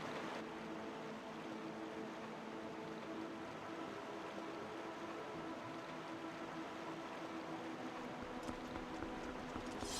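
Continuous water ambience in The Legend of Zelda: Twilight Princess HD, a steady rushing wash with faint tonal game music layered underneath, even in level throughout and heard alone without voices.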